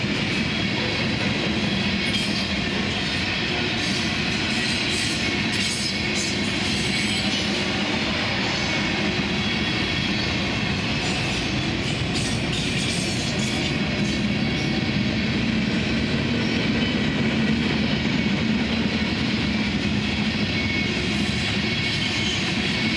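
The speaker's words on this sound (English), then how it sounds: "Taking the siding is CSXM 566, eastbound equivalent of the 565 we saw earlier." A CSX freight train, CSXM 566, rolls eastbound onto a siding with a loud, continuous rumble of wheels on rail and faint wheel squeal throughout.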